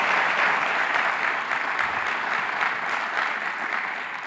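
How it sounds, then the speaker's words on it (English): Sustained, dense applause fills a conference hall at a closing ceremony, a large audience clapping loudly and steadily before tapering slightly at the end. "a big round of applause for all of them"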